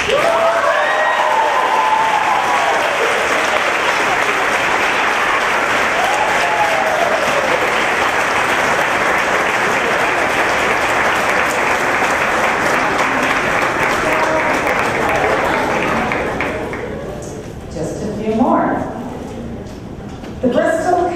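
Sustained, loud applause from a graduation ceremony audience at Blackstone Academy, a dense steady clapping that continues for many seconds before thinning out at the end.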